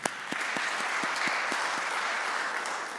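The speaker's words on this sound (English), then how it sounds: "give yourselves a round of applause right now." A graduation ceremony audience claps steadily in a dense, sustained round of applause, with a few sharper individual claps standing out close by.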